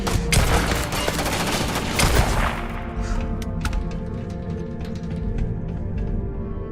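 Gunfire in the video game Starfield, a dense stream of rapid shots and thuds that thins out into scattered cracks, with music underneath.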